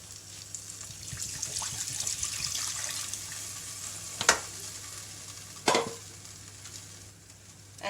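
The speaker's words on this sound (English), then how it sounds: "I'm just going to add some water." Water poured into a hot pan of sizzling aromatics for pasta, giving a steady frying hiss with a trickling pour and two brief sharp clinks, close and without talk.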